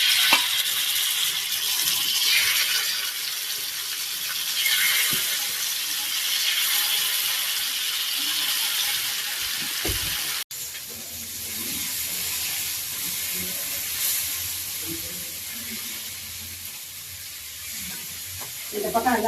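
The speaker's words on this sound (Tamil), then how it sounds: "இப்போ நம்ம இதெல்லாம் எடுத்து வச்சுட்டு இந்த தேங்காய் பாறையை வறுத்துடலாம்" Coconut trevally fish fries in a pan of oil at home, a loud, close, continuous hiss and sizzle with a brief sharp knock partway through and faint voices in the background.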